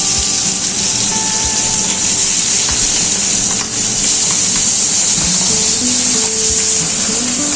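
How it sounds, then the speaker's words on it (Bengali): Pabda fish hitting hot mustard oil seasoned with salt sets off a loud, steady sizzle with a dense spitting hiss that holds at an even level the whole time, with no voices. "এবার দিয়ে দিচ্ছি মেখে রাখা পাবদা মাছগুলো।"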